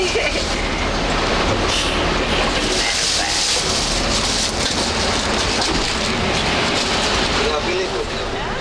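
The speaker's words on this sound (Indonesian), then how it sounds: "Hujan gede." Heavy rain drums steadily on a moving bus, heard from inside as a loud, dense, unbroken roar layered over the low rumble of the vehicle.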